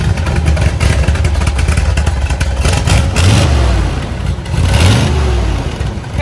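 A 1971 Corvette Stingray V8 with a solid lifter cam revs hard, loud and close, with repeated rising throttle blips over a choppy, lumpy idle and a rapid mechanical clatter.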